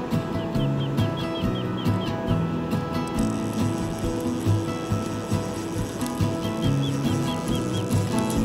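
Birds call repeatedly from nearby, short chirping notes in bursts at the start and again near the end over a steady busy background, heard from a room beside a salmon river.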